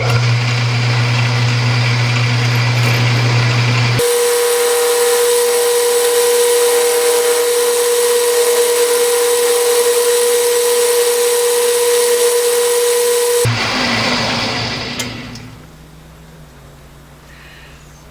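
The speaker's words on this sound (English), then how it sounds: "going to relieve with a round nose tool" A metal lathe runs steadily while a round nose tool turns a leadscrew nut for a compound slide, giving a loud, continuous motor hum with a tonal whine through the middle before the machine winds down and stops.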